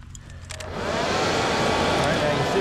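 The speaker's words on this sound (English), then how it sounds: "then I'll plug in the blow dryer and we'll get that thing going" A hair dryer roars steadily, blowing air hard into a simple ground forge, rising to a constant loud whoosh after a brief start.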